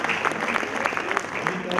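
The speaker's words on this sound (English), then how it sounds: "A big round of applause to all the parents who are accompanying the newly qualified chartered accountants" Auditorium audience applauding parents of newly qualified chartered accountants at an annual felicitation event, continuous dense clapping with a voice audible beneath it.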